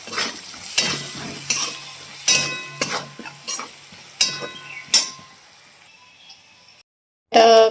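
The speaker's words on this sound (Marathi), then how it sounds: "चला आता फोडणी देऊन घेऊया." Phodni tempering with peanuts in a kadhai, metal spoon scraping and clanking in repeated strokes over a soft sizzle of hot oil, the stirring fading out before a brief silence and a sudden louder burst at the end.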